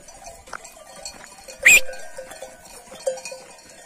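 A single short sheep bleat rings out close by amid a farmyard in frosty weather, with faint livestock rustling, clinking and scattered background noise around it, no talking.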